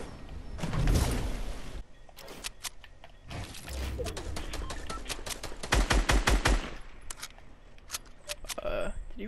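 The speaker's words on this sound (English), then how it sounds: "Everyone's shooting at the ball." Rapid video-game gunfire from several players aimed at a beach ball in a summer beach event, heard as dense bursts of shots and clicks, loud and close, with a player talking over it.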